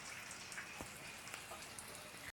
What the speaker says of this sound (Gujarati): રાતનો બહુ વરસાદ છે.